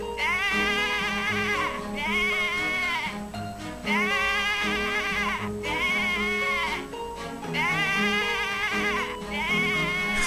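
Sheep bleating in the video game Professor Layton vs Phoenix Wright: four long, loud, wavering bleats in a repeating rhythm over a steady tonal game music bed.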